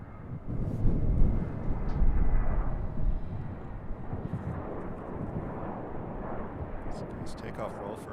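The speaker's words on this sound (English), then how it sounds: "Takeoff roll for American." An American Airlines airliner makes its takeoff roll at Raleigh-Durham International Airport, a distant, rumbling jet roar that swells and then holds steady.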